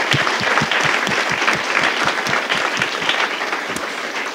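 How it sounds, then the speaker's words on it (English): An audience at a Talk20 presentation event gives a sustained, dense round of applause for the presenters, steady clapping filling the room for several seconds. "can we please have another round of applause for our presenters?"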